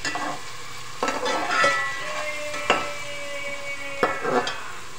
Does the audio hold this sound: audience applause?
no